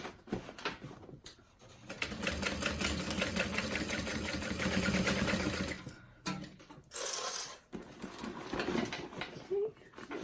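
A domestic sewing machine runs back stitches through fabric for a tote bag, a steady rapid mechanical whir with brief stops and restarts, fairly close and moderately loud.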